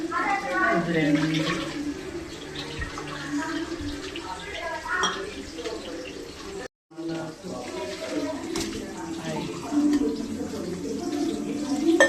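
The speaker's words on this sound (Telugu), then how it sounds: "ఇప్పుడు ఫైవ్ గ్లాసెస్ వేస్తుంది మా మమ్మీ వాటర్" Water splashes and pours steadily into a pot, five glasses poured, with a brief pause partway through and voices talking nearby.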